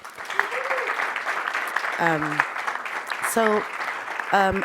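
Audience applause at a mezcal and agave biology seminar, a steady wash of clapping running the whole clip, with voices calling out and brief cheers rising above it.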